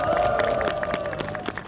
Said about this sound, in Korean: 여러분, 이 나라를 구할 청년들을 위해서 박수 한번 보내주시기 바랍니다